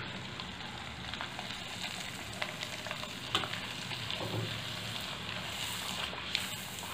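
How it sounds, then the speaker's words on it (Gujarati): Sabudana rice papad frying in hot oil, giving a steady, dense sizzle and crackle that runs unbroken at an even loudness, with no voices over it. "પાપડ તળી લેશું."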